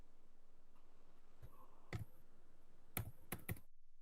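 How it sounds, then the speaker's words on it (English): Several sharp key clicks on a computer keyboard, likely arrow-key presses, spaced irregularly over a quiet background with a short burst of three presses near the end. "press your right arrow on your keyboard"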